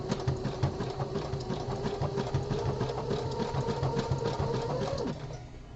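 A home sewing machine runs a continuous stitching burst through a boxer brief body panel, a steady mechanical whir with rapid needle clatter that stops abruptly near the end, leaving quiet room tone.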